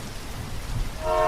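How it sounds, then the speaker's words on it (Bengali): Rain begins to fall outside a train nearing a station, a steady low rush of drops that swells and grows louder near the end, with no voices over it. "বাইরে দেখলো বৃষ্টি শুরু হয়েছে।"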